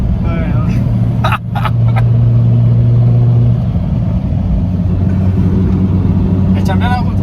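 Car cruising at 90–95 km/h with worn-out brakes, heard as a loud steady engine and road drone with a sustained hum that then eases as it slows, under French talk.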